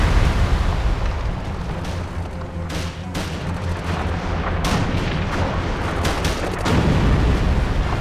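Gunfire and explosions rattle through a battle in the strategy game Theatre of War: repeated sharp shots and booming blasts layered over a steady loud rumble, with heavier hits near three, five and seven seconds and no talking.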